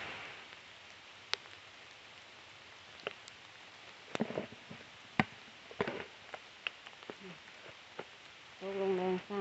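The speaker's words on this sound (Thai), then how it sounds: "ฝนก็ตกลงมา" Rain falling in an American forest, a faint patter with scattered drips and taps on leaves and surfaces, and a brief voice near the end.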